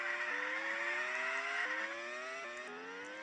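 Engine tones from race cars in a 2D racing video game during a Grand Prix, a steady buzzing whine that steps up in pitch with each gear change, at moderate, even loudness and without any talk.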